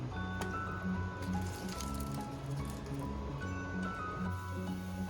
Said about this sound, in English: Added some more water to our soup